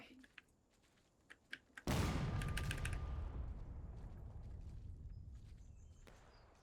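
Soft clicks, then one heavy artillery cannon blast booms out in the game War of Rights during an artillery drill, its deep rumble fading slowly over several seconds.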